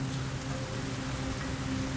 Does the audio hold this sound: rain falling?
yes